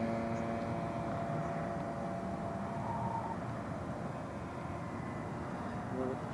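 A vintage Byron Originals T-34B Mentor radio-controlled model airplane flies with a steady, continuous propeller drone that holds fairly even throughout, with faint tonal engine whine and an outdoor airfield wash behind it.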